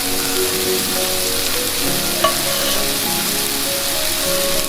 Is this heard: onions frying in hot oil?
yes